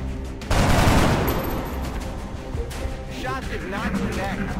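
A burst of gunfire from a soldier in the turn-based tactics game XCOM: Enemy Within, a loud broadband blast that tails into a sustained rumble of reverberating shots and battle noise, with speech present.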